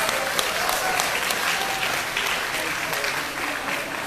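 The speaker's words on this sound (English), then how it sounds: "So give them a round of applause." An audience applauds a dance troupe of competition gold medalists at a Kampung Tunku community event, with dense, steady clapping from a crowd sustained throughout.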